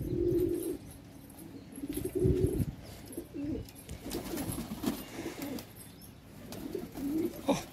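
Pigeons kept in a loft coo in repeated low, throaty phrases, close and fairly loud, with some rustling and soft chirps mixed in and no talking.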